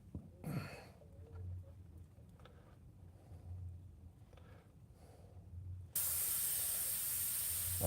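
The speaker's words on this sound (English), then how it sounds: "you can see I'm using Tim's airbrush" Steady airspray hiss from an airbrush, fairly quiet at first with brief puffs, then a much louder continuous broadband spray burst near the end.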